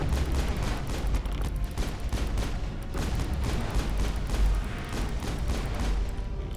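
Pistol gunfire in the Mass Effect video game, rapid repeated shots in steady succession with booming impacts throughout a battle.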